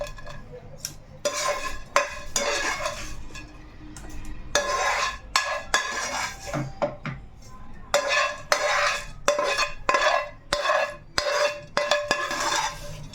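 Bitter gourd pieces are tipped into a pan and stirred with a metal utensil, giving repeated close scraping and clinking bursts against the pan with brief pauses between strokes and a faint sizzle underneath.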